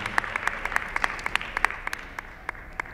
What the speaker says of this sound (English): Let's give all four of them a round of applause one more time.